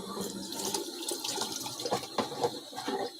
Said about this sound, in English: Give it a nice rinse, quick rinse,